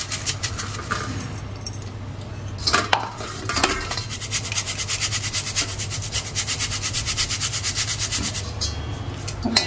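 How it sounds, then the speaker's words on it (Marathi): Ground rice flour shaken through a sieve, a steady rhythmic scraping and rubbing with light metallic rattles, close and fairly quiet, without talk. "या पद्धतीने आपण मिक्सरमधनं काढणार आणि चाळणीने 2दा चाळून घेणार आहे"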